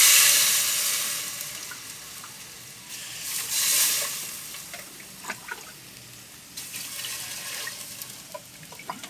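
Water poured into a pan of fried onions and chillies while making bagara rice, giving a steady hissing sizzle with a louder splashing surge partway through, close by and without talk.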